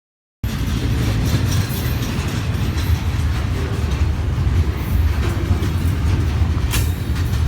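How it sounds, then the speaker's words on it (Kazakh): A yellow freight train in a cartoon rolls past with a steady, loud rumble and rattle of wagons that holds unbroken for several seconds, with no voices. "Дұрыс, бұл сары түсті жүк пойызы"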